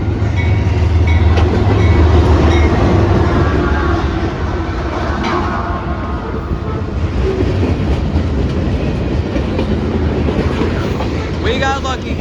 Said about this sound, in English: And we got a CSX freight. There we go, guys. It's mixed freight.